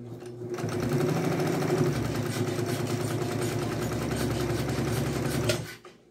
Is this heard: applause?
no